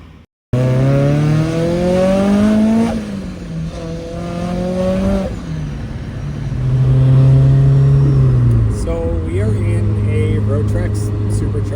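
A Rotrex C30-94 supercharged 1.8L Mazda Miata engine revs loudly from inside the car, its pitch climbing and dropping through several pulls with a steady whir, while people talk over it.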